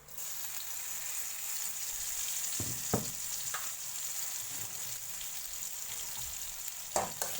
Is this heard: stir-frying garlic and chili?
yes